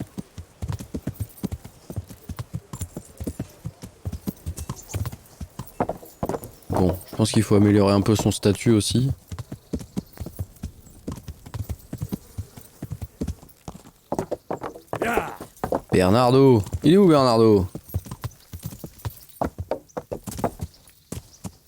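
Horse hooves clip-clop in a steady walking rhythm while riding in the medieval game Kingdom Come: Deliverance, with two loud whinnies breaking in as someone talks over the rhythmic hoofbeats.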